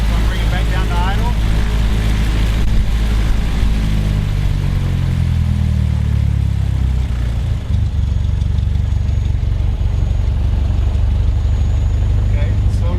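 A light aircraft engine, just fitted with a new carburetor, runs up to 1500 RPM and then settles back to idle. The loud, steady drone falls in pitch as it slows, with a voice talking over it.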